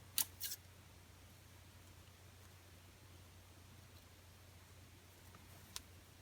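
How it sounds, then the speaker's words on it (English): Scissors snip a couple of quick, crisp cuts into fabric close by at the start, then one more brief snip near the end, with quiet room tone between. "just grab those same scissors."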